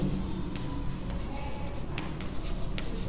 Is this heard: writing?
yes